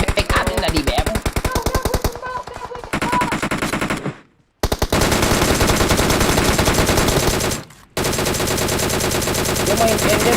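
Rapid automatic gunfire in a video game rattles loudly and almost nonstop, broken by two brief silent gaps, with bursts stacking into dense volleys.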